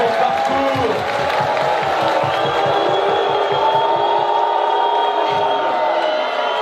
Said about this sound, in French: On peut applaudir Jordan Bardella